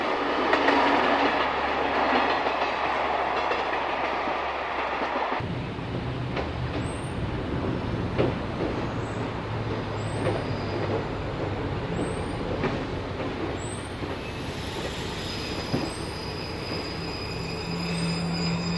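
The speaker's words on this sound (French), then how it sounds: "Le 4500 s'engage maintenant sur la ligne de la Brévenne vers Saint-Bel" Caravelle X 4500 railcar rolling along the Brévenne line toward Saint-Bel, a steady loud rumble of wheels on rails with occasional squeals and rhythmic clicks, the engine drone shifting after the first few seconds, no voices.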